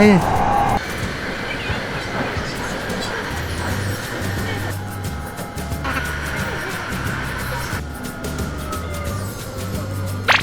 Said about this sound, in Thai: ขึ้นรถไฟฟ้าสายสีแดงครั้งแรกนะ